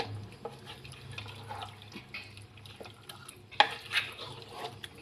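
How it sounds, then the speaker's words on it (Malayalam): Warm water poured into a pan of chicken curry, a soft liquid stirring and trickling sound with a brief louder splash near the end, close and moderately quiet with no talking. "നമുക്ക് ചേർത്ത് കൊടുക്കാം ചാറ് കഴുകിയ ചെറിയ ചൂടുള്ള വെള്ളമാണേ"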